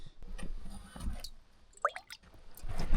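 Water is scooped from a hole in a frozen lake, with a few wet sloshes and drips, one bright splash standing out near the middle, close and fairly quiet.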